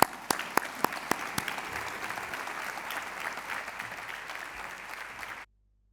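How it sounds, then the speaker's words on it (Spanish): Audience applause for two speakers at a debate on European economics and taxation, opening with a few sharp loud claps, then settling into steady moderate clapping from a crowd before cutting off abruptly. "Un aplauso para ellos."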